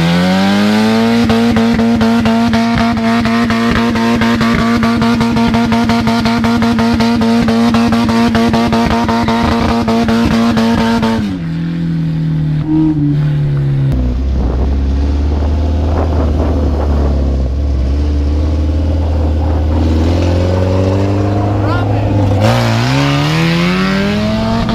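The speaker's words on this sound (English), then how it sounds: "about to rip a peel with the welded diff" Mazda Miata with a welded differential revving hard at steady high pitch, then dropping into a screeching, roaring peel-out with tire squeal and a final rev, loud and close.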